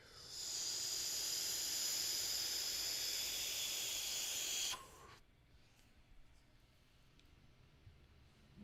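A long, steady breathy hiss of air drawn hard through a vape for about four seconds, close to the microphone, then it cuts off and leaves quiet room sound.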